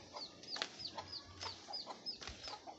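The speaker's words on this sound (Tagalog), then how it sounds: "isang inahin na nangiitlog dyan" Soft, repeated clucking from a hen, quiet and fairly close, alongside faint high chirps from chicks.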